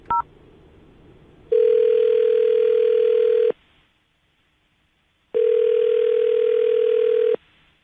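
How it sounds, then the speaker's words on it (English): Telephone tones sound on a call to a woman's phone number: two long, steady, loud electronic tones, each about two seconds, separated by a quiet gap, with a brief blip at the very start and no talking. "I'm going to dial her phone number right now"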